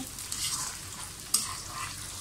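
Onions fry in a pan while a chicken korma is being prepared, giving a steady close sizzle with a brief sharp clack of stirring partway through.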